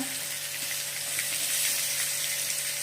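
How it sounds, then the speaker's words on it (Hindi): Cumin, asafoetida and onion frying in hot oil for dhaba-style dal fry, a steady close sizzle and hiss that swells slightly midway, with no voices. "तेल गरम हेले जीरा टिके दे दवा जीरा पर टिके हेंगु दवा पियाज टिके दवा"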